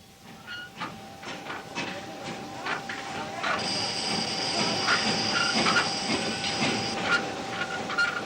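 A meter gauge train runs on an Indian railway near Fulera, with rolling wheel clatter, rhythmic clicks over rail joints and a long squeal of wheels, moderately close and steady throughout.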